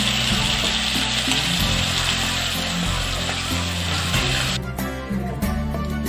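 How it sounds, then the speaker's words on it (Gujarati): Tomato gravy hits hot oil in a pan already holding popped mustard seeds and ginger-chili-garlic paste, for a Gujarati onion dish. A loud, steady sizzle hisses throughout, easing slightly near the end, with a low tonal hum beneath. "ટામેટાની ગ્રેવી આપણે અંદર એડ કરીશું"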